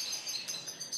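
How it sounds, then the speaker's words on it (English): Spanish timbrado song canaries at a bird shop give a brief, faint, high trilling warble that is steady and somewhat distant, with no voices. "Now, all the canaries will sing,"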